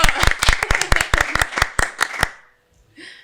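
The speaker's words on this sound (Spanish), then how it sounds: "Otro aplauso. Otro aplauso. ¡Bravo!" A small studio audience gives a short round of applause, about a dozen sharp, close hand claps in a quick irregular rhythm that stop abruptly, followed by silence and a faint voice.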